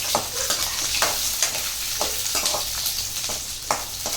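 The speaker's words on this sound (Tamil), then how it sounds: "ஒரு தக்காளி, சின்ன வெங்காயம், தேங்காய் கொஞ்சம் நல்லா வதக்கிக்கிறேன்" Tomato, shallots and coconut sautéing in a pan for a chicken gravy, with a constant loud sizzle and regular spatula scrapes roughly every half second, heard up close without talk.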